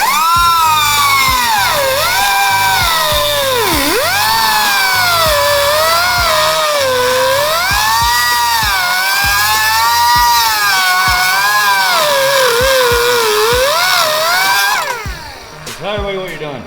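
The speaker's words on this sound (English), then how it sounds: "I'm cutting out right inside the weld." Power tool cutting inside the weld of a Harley Davidson Tri Glide exhaust, a loud, continuous high whine that rises and falls in pitch as the load changes, close up, then winding down at the end.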